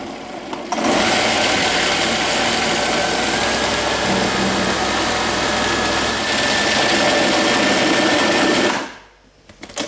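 A blender purées mushroom soup, running steadily and loudly for about eight seconds with a dense whirring roar, then shuts off abruptly near the end.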